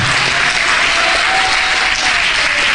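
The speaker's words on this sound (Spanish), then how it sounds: "Dale un fuerte aplauso al Señor" A congregation at a Christian church service bursts into loud, sustained applause, a dense wash of clapping that fills the space evenly throughout with no talk over it.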